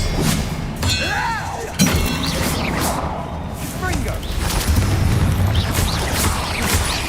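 Bombarda blasting spell explosions in the Hogwarts Legacy video game, booming and shattering bursts amid continuous battle noise, with voices heard throughout the fight.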